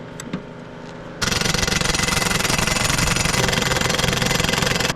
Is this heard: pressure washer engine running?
yes